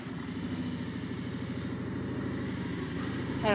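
Harley-Davidson Street Glide motorcycle carrying a rider and passenger, about 400 pounds aboard, with a steady low engine rumble throughout while cruising and a brief louder swell near the end.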